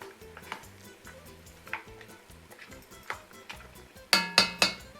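Softened onions and garlic stirred in a pan for braised pork ribs, with soft scraping clicks and tapping of a utensil on the pan and a light sizzle, ending in a few sharper metallic knocks.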